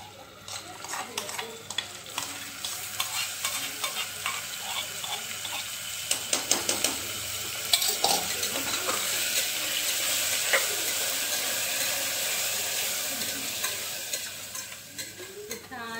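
Marinated mixed vegetables, including carrot and capsicum, going into a hot pan for veg biryani, with steady sizzling and frying plus stirring clatter throughout, and a burst of sharper clinks around the middle.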